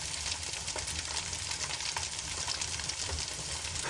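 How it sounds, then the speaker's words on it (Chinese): Rectangular pieces of dough pastry, each slit three times, frying in hot oil in a grassland home kitchen in Inner Mongolia's West Ujimqin Banner: a steady, dense, fairly soft sizzle with fine crackles and no talking. "接着下锅去炸"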